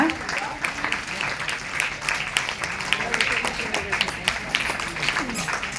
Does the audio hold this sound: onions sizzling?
no